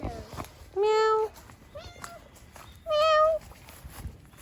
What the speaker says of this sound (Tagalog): I found four cats.